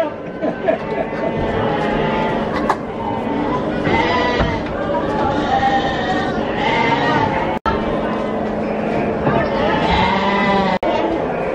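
Several baby goats bleat repeatedly, close and loud, with overlapping high cries and people talking in the background.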